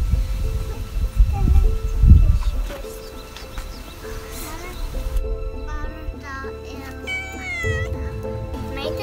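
A cat meowing repeatedly, several rising drawn-out meows up close after some low handling bumps and background noise.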